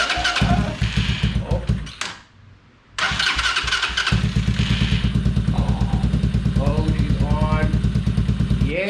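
A small gas engine on a Power Wheels Gator build cranks with the choke on, then catches and runs with a steady, close, low putter. People talk over it.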